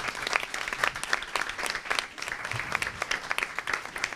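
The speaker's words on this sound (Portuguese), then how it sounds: "eu queria que vocês aplaudissem o Grupo Arco-Íris" A seminar audience of the Projeto Conexão Rio applauds a group, with continuous brisk clapping from many hands for several seconds at moderate volume.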